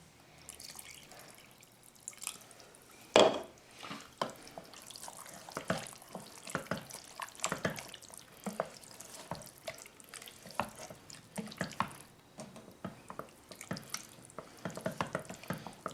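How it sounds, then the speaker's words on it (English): Water poured and trickling into a pot of chili with tomatoes and tomato paste while cooking, a steady splashing stream with drips and clinks running throughout, close and moderately loud, with no talking. "I can already tell I'm going to need to add a little bit of water"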